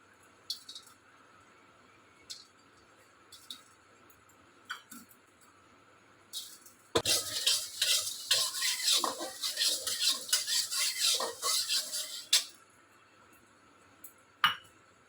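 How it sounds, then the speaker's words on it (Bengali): Whole coriander seeds, cumin and garam masala are stirred and dry-fried in a kadai, starting with sparse metallic taps, then a dense burst of crackling, scraping and rattling spices for several seconds before easing back to occasional clinks, with no talking. "এই যে একটু ধনে আর এই গোটা জিরে আর হচ্ছে গোটা একটু গরম মশলা একটু ভেজে নেব।"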